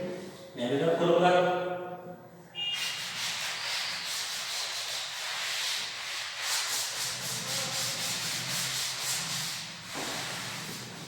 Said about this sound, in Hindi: ठीक है, मैं भी रब करूंगा।